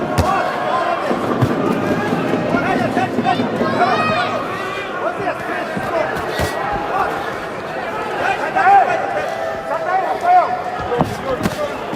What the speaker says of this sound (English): The fans are cheering everything that the Brazilian does here.